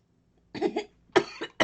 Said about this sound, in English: Excuse me while I die coughing.